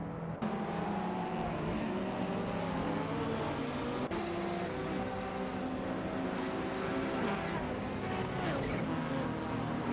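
Race cars lap Spa in the Retro Racers game, with loud, whining engines droning steadily and sharp shifts in pitch as cars pass close by, a constant roar for the whole stretch.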